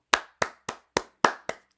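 Six sharp, evenly spaced hand claps ring out alone over under two seconds, each a crisp close slap with a short decay.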